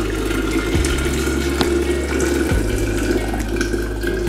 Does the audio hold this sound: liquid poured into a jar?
yes